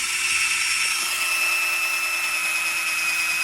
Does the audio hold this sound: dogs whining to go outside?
no